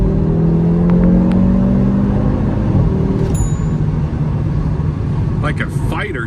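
An Audi RS3 8Y with modifications accelerates hard, its turbocharged engine rising in a loud, close whirring rumble with whistling turbo tones, and a voice speaks over it.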